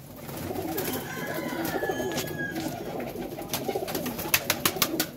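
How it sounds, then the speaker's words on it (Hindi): Pigeons in a coop coo and call in soft repeated phrases over a low background murmur, with a few sharper taps or flutters near the end; no voices are heard. "कबूतर है।"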